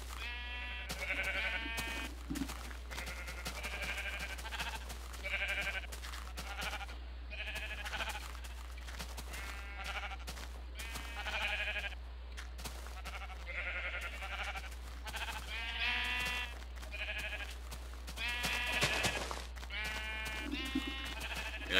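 Repeated sheep bleats in Minecraft, from a colored-wool sheep farm in version 1.2.5, come in frequent overlapping calls from several animals at steady close volume over a constant low background hum.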